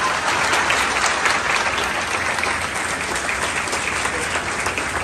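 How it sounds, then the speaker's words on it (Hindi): A crowd at a stage ceremony honouring a guest keeps up loud, continuous applause. The clapping stays dense and even from start to finish, with no talking over it. "एक बार परवेज अख्तर सर के लिए जोरदार ताली।"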